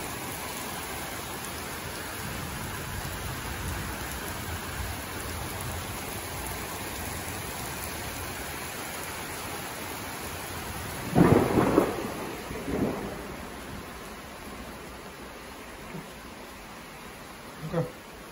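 Steady rain hisses in the background while a few sharp thunder cracks burst out partway through, followed by a fainter rumble and a late crack.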